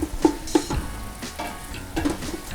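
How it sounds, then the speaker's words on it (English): Tomato paste being stirred into frying onions in a pan for a meatball sauce, a steady close sizzle broken by a few scraping spoon strokes against the pan. "I'm gonna incorporate the tomato paste into the onions and try to make like a uniform paste of the onions"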